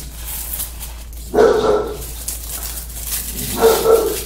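A dog barks twice, a low muffled woof and then another a couple of seconds later, over steady background hiss.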